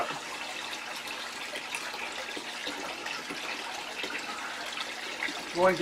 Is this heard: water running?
yes